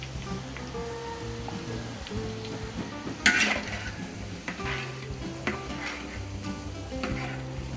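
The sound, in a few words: onion and garlic sautéing in margarine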